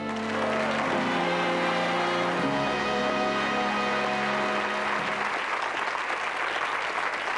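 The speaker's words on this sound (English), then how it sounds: "the audience will go wild with applause for you" Studio audience applause on a 1988 Paul Daniels television show, loud and sustained throughout, with a steady musical tone at the start that gives way to dense clapping.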